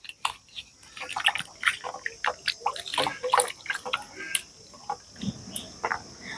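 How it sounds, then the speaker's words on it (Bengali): Whole raw green mangoes, skins on, are washed by hand in water for pickle, with close splashing, sloshing and dripping in quick irregular bursts throughout. "ভালো করে জলে প্রথমে এভাবে খোসা সমেত গোটা গোটাই ধুয়ে নিচ্ছি"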